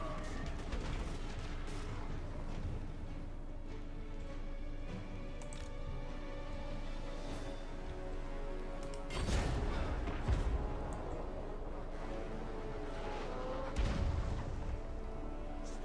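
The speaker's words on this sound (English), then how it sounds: "Hell cannons are not really the best for sieges." Hellcannons firing during a siege in the Total War: Warhammer video game, heavy booming blasts landing as periodic deep thuds, most prominent around two points, over a steady dense battle soundscape with music.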